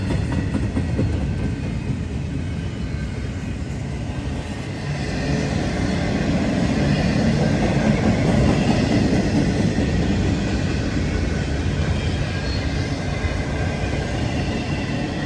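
Intermodal freight train rolling past at around 35 mph, a steady loud rumble with rail clatter and wheel noise that holds throughout without any talk.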